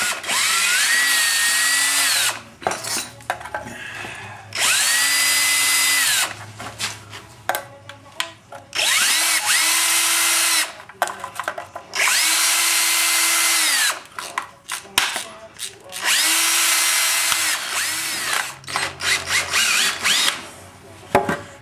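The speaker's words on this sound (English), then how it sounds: "We're going to remove the oil pan bolts with the screwdriver because it's just ultimately quicker that way." A power screwdriver whirs in repeated bursts of a few seconds each, removing the oil pan bolts from a Subaru, its pitch rising and settling, separated by short pauses and clinks of metal.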